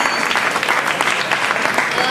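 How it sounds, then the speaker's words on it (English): An audience bursts into loud, continuous clapping, many hands beating fast and evenly throughout, a dense crowd applause with no voice on top. "So clap."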